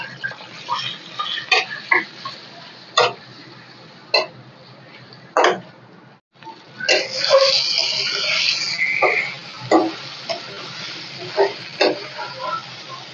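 Spiced chicken pieces are stirred and fried in a pan: separate scraping stirs and clicks come at irregular intervals, with a louder burst of sizzling in the middle, close by.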